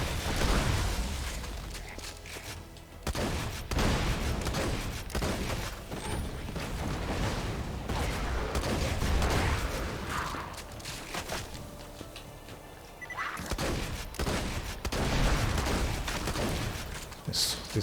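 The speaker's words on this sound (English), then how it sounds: "This sword explosion shotgun's doing a good job" A sword explosion shotgun fires in the Borderlands video game during an Immortal Golem boss fight, with repeated loud blasts and explosions in chaotic bursts and brief pauses, mixed with other game effects.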